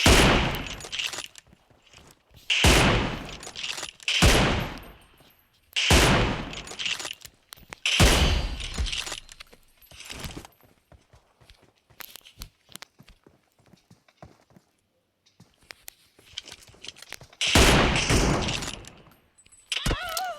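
Bursts of gunfire ring out in a video game, loud clusters of rapid shots repeating every couple of seconds with short quiet gaps between volleys, and no talk over them.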